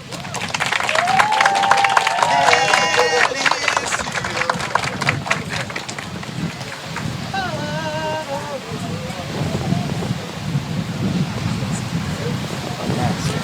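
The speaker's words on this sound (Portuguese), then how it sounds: "Pode aplaudir." Wedding guests applaud at a beach ceremony, steady outdoor clapping with wind noise on the microphone and voices calling out over it.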